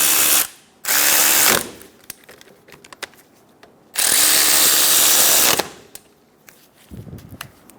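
A power tool snugs down brake caliper bolts on a 2003-2007 Honda Accord, with two loud sustained whirring bursts separated by a pause, followed by a few softer ratcheting clicks near the end.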